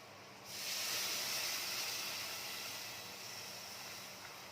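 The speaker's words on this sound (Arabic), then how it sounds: "هننزل بقى بايه، بلتر الحليب اللي عندنا" Milk pours into a hot pan for creamy chicken soup, giving a steady broad hiss that starts abruptly after a brief quiet moment and holds evenly near the pan, easing slightly toward the end.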